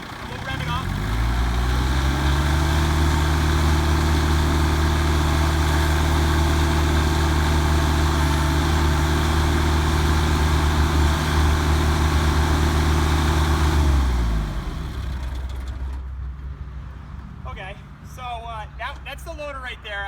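A sub compact tractor engine revved up, a loud steady droning rumble held for about fourteen seconds before dropping back toward idle, with someone talking briefly near the end.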